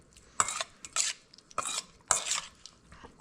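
Salmon bites tossed gently in kabayaki sauce in a bowl, with soft irregular clinks and wet scraping strokes coming in short separate bursts, close and fairly quiet.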